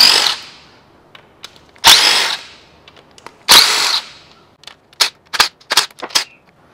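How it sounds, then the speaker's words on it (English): An impact wrench loosens a series of 12 mm bolts on a Kia/Hyundai V6 timing cover: three longer whirring bursts followed by a quick cluster of short, loud rattling hits. "we have a whole series of bolts here to remove. They're all 12 mil. I'm just gonna loosen them all first."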